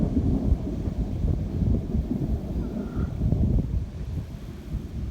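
Deep, distant thunder rolls through a storm as a continuous low rumble, with gusty wind buffeting the microphone and no voices.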